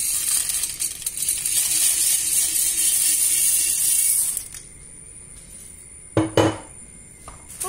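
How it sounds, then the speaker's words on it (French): Dry pasta poured into a pot of boiling milk for a chicken pasta gratin, a rattling hissing stream for about four seconds, then quiet with one sharp clink of pot or utensil near the end. "Maintenant, je vais commencer à mettre mes pâtes."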